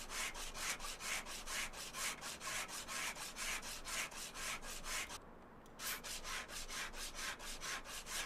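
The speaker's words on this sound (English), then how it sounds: "I don't know if I could use the light along with using the sandpaper." Sandpaper rubbing on a car part in Car Dealer Simulator, rapid rhythmic back-and-forth scraping strokes, steady and close, with one short pause before the strokes resume.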